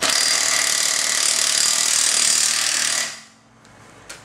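A Harbor Freight cordless impact wrench hammers on a lug nut torqued to 100 foot-pounds, a loud continuous rattling burst lasting about three seconds before cutting off, followed by a faint click.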